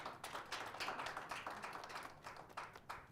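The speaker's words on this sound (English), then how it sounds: "Let's clap hands for you." A conference audience at a media innovation summit claps its hands in a brief, faint, continuous patter of applause, heard from a distance.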